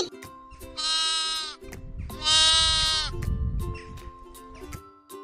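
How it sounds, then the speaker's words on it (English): A sheep bleats twice, each call loud and quavering, over gentle backing music with a low rumble beneath the second call. "I am a sheep."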